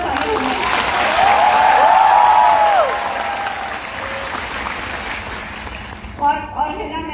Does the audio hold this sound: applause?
yes